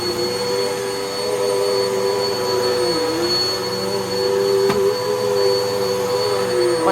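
A Bissell upright vacuum cleaner runs continuously nearby with a steady, loud motor whine and airflow roar, dipping briefly in pitch as it is pushed, with no one talking.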